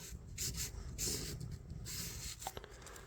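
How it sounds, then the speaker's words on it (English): Faint, close scratchy rubbing of sandpaper on the rusty blade of a vintage L L Bean fish knife, in short uneven strokes with small pauses, quiet and without speech. "Just kind of bend it over and sand on that just a little bit."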